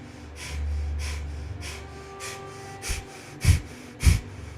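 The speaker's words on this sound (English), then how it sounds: "breath of fire, which is like a panting puppy dog, but your mouth is closed and you're breathing just through the nose" Rapid Kundalini yoga breath of fire, short forceful exhales pushed through the nose with the mouth closed, about eight sharp puffs in a quickening rhythm that grow louder and closer toward the end, with no talking.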